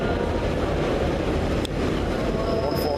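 A Pacer diesel railbus rumbles steadily with a constant low drone of engine and wheels, heard from inside the carriage, with a faint brief squeal partway through.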